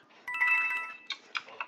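A mobile phone ringtone plays briefly during a Roblox gaming session, a short melodic tone followed by a few quick beeping notes, fairly close and clear with no talk over it.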